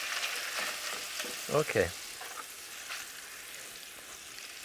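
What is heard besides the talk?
shrimp frying in a pan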